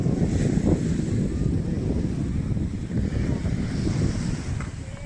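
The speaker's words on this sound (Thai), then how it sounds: "เสียงคลื่นทะเลนะฮะ" Sea waves wash onto a beach at Pattaya in the late afternoon, a constant, fairly loud surf rush mixed with wind noise on the microphone.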